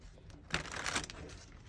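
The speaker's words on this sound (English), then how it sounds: "I'll just give these a quick shuffle." Tarot cards riffled in a quick shuffle, a brief crisp burst of papery flutter at close range in a quiet room.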